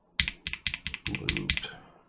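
Factory (unlubed) Lavender mechanical keyboard switches typed in a quick burst of about a dozen crisp, clacky keystrokes, close and fairly loud, with no voices.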